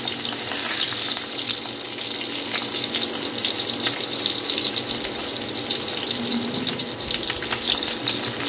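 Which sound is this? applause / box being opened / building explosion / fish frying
fish frying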